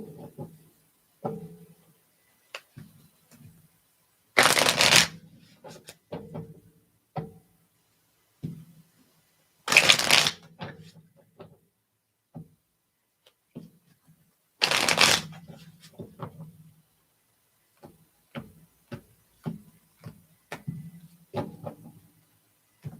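Cards shuffled for a card reading: three loud, sharp riffle bursts spaced roughly five seconds apart, with soft handling clicks and taps in between, close and otherwise quiet.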